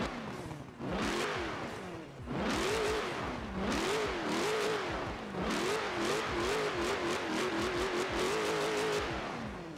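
A Jeep Trackhawk engine in the racing game Forza Horizon 4 revs up and launches, pitch climbing through several gear shifts in repeated surges, loud and close.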